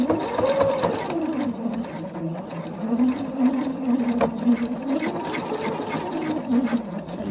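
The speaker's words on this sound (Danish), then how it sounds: "Så nu skal jeg bare lige have syet frem og tilbage nogle gange her, så elastikken sidder godt fast." A sewing machine stitching back and forth on elastic beside a buttonhole in a waistband, a steady close whir whose motor pitch rises and dips as the direction changes, running continuously.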